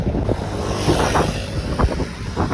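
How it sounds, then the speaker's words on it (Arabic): Strong wind buffets a bicycle rider's microphone on a ride around Tangier, a continuous low roaring rumble with gusty surges that rise and fall, no other sounds standing out. "والريح كيجبدك، انت كتبيداري والريح كيجبد"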